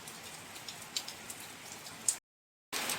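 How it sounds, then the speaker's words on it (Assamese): Heavy rain pouring down steadily since morning onto a home garden, a dense, even hiss of drops with a few sharper ticks, cut by a brief silent gap. "ৰাতিপুৱাৰ পৰা আজি বহুত বৰষুণ"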